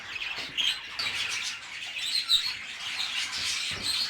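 A caged pet bird chirps and sings in a room, quick high tweets and trills repeating in irregular bursts, moderately close with no one talking.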